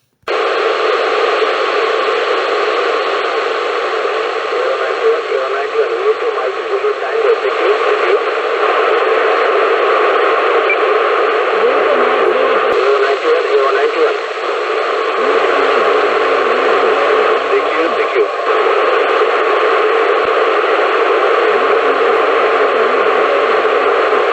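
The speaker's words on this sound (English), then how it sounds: "Here is the audio recording of the pass after editing out most of the hissing noise of the open squelch when the satellite signals were not being received" AO-91 amateur radio satellite downlink from a receiver with an open squelch, a loud, constant hiss of static with faint underlying tones, cut by a few brief dips over a long stretch.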